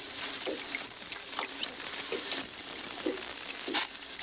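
Male dolphins squabbling underwater give a steady high-pitched whistle that waves and bends, over soft pulsed clicks and grunts.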